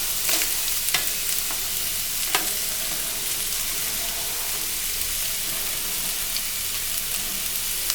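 Carrots, beans and other vegetables stir-fry in hot oil for vegetable noodles, giving a steady, close hiss of sizzling with a few sharp spatula scrapes, heard alone.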